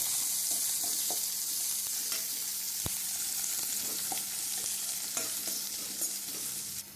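Onions sizzle steadily in hot oil in a pan, with occasional scraping stirs and taps of a spoon.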